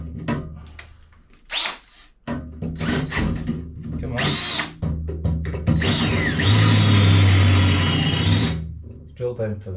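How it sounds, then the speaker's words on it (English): Handheld power drill boring through a tall .50 cal metal ammo box being fitted as a motorcycle pannier, with short whirring bursts and clicks leading into a longer sustained, straining whine up close. "Drill down to the other side actually."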